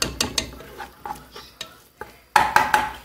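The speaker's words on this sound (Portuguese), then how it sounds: "Eu estou refogando na mesma panela que eu cozinhei o frango." Onion, tomato, cilantro, garlic and bell pepper sauté in a little oil in a pot, with a spoon scraping and stirring in about a dozen quick rhythmic strokes over a soft sizzle, closest and loudest near the end.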